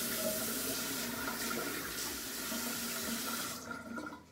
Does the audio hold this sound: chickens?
no